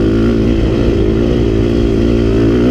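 A KTM 350 XC-F dirt bike climbs a hill, its four-stroke engine a loud, close, steady drone held at high revs for the whole few seconds, with no talk.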